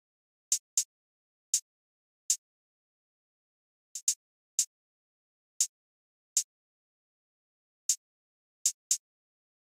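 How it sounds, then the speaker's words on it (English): Hi-hat pattern in a hip-hop beat, crisp isolated ticks in uneven clusters and pairs, quiet and alone. "this is the hi-hat pattern I laid down"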